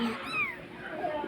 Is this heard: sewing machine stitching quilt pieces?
no